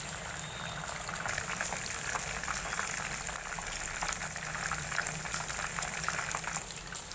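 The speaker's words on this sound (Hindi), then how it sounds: "इसे ब्राउन होने तक हमें तलना है" Mushroom pieces deep-frying in hot oil until brown, a continuous bubbling, crackling sizzle held at steady level for the whole stretch with no speech.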